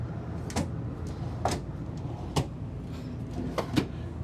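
Large pull-out wardrobe drawers in an RV bedroom sliding and bumping shut, several soft thuds and knocks spaced over a steady low background hum.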